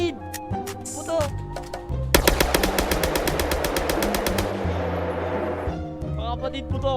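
Rapid bursts of video game gunfire, a long automatic volley in the middle with scattered shots around it, loud and close.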